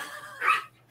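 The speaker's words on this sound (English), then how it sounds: "Your dogs are flipping out in the background." A single sharp dog bark rings out in the background, brief and moderately distant, with near-silence around it.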